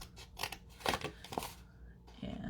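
Scissors cut through paper in several short, crisp snips close by, followed by quiet rustling and handling of the sheet.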